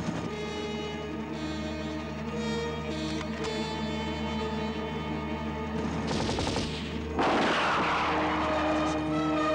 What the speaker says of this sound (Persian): دارن تیر اندازی میکنن، میتونن ما رو از بین ببرن